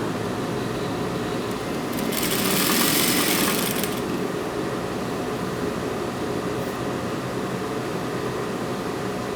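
A sewing machine stitches a French seam close to the edge on printed fabric for a child's dress skirt, giving a steady whirring motor hum with a brief louder burst of rapid stitching near the start.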